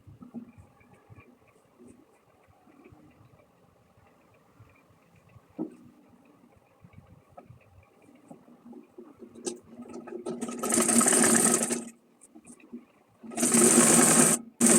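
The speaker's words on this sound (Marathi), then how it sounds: "पायपिंगसारखंच आपल्याला शिलाई करून घ्यायची आहे." Sewing machine stitching piping-style seams on a simple folded cloth bag: two loud, steady mechanical whirring runs near the end, each lasting a couple of seconds, preceded by quiet handling of fabric and small clicks.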